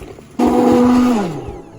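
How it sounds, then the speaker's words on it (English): An immersion blender switches on and whirs loudly through cooked apples for applesauce, holding a steady motor tone for about a second before spinning down. No one speaks over it. "I'm using my immersion blender to process this down"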